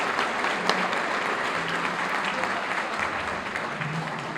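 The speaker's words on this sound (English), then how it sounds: "Please give a big round of applause." Sustained audience applause filling a room at an awards luncheon, a steady dense wash of many hands clapping with no break throughout.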